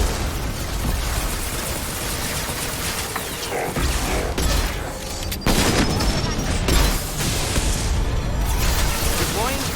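Grenade blasts and gunfire in Mass Effect 2 Legendary Edition combat, dense crackling shots over continuous roar, with heavier explosive thumps around the middle and later on, loud and close throughout.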